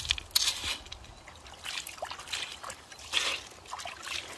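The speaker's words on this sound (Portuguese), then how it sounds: "Joga uma água aqui pra não cair aí." Water poured out to rinse a rough mineral specimen, giving a trickling, splashing sound in a few loose bursts that come close to the listener.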